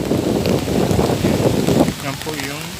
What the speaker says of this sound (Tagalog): As of now, medyo malakas-lakas pa po ang ating hangin.